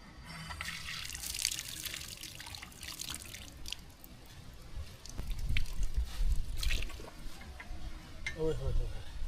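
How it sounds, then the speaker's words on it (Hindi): Cold water running from a tap in Europe, a steady close splashing stream with intermittent drips and clatter, while someone talks over it at times. "है जी नलका है जी, यूरोप वाला नलका। पानी जो है ना बहुत ही ठंडा है ये।"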